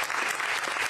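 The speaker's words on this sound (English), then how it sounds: "you give him a big round of applause, Representative Charlie Thompson" A crowd at a campaign stop in Charles City, Iowa claps for a state representative, giving a brief, dense burst of applause.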